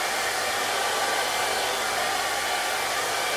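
A Philips DryCare hair dryer blows continuously nearby, a steady loud whooshing airflow with an even motor whine and no pauses or speech.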